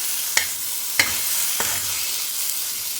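Coriander powder and cumin stirred in a hot pan for a vegetarian curry, a steady frying hiss broken by three sharp spoon scrapes against the pan, close and alone.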